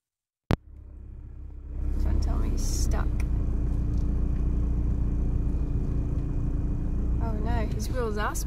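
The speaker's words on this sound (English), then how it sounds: "His wheels are spinning." A 4x4 on a snowy road revs hard as its wheels spin, with a loud, steady engine rumble that builds after a sharp opening knock. Voices talk over the noise near the end.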